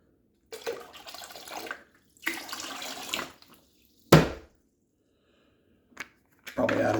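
Water poured and running into a bath in bursts, splashing and gushing in several separate spells with quiet gaps, close by, with a voice speaking in between.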